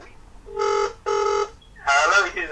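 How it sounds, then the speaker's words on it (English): A ringback tone plays through a Kospet Brave Android smartwatch during a Bluetooth call: two clear electronic rings, each under half a second, then a voice answers. "So you can hear it ringing directly on the watch."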